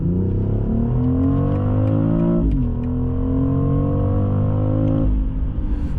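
A BMW X3 M50 3.0-litre inline-six engine revs up loudly, pitch climbing through the gears with a brief drop between shifts, close and continuous.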